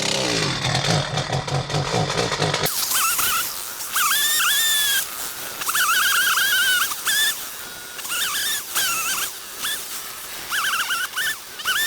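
A chainsaw cuts through an overgrown hedge during coppicing on farmland, starting at a loud steady roar and then revving up and down in repeated bursts as it bites into the wood, close and dominant throughout.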